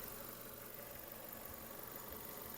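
A Renault Megane engine idles with a steady, low mechanical hum and light vibration, continuous and close, with nothing else heard.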